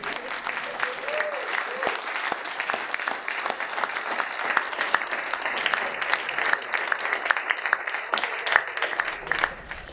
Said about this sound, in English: Thank you for the applause for these people.